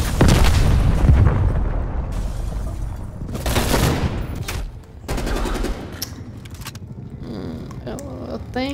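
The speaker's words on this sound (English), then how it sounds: "Cruise missile inbound." A volley of loud, booming video game explosions and rapid gunfire from a cruise missile strike, dense bursts rolling over several seconds with brief lulls between blasts.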